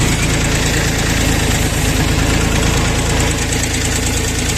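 A Bulat 244 mini tractor engine runs steadily while driving, a loud continuous diesel drone with a rough, knocking low rumble and vibration throughout, with no talk.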